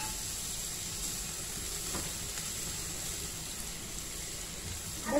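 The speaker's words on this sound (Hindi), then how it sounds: "और उसको हमने हल्का सा इसके अंदर सौते करना है।" A small onion sautéing in melted butter, a steady soft sizzle and hiss that carries evenly throughout, fairly quiet and unbroken, with no talking over it.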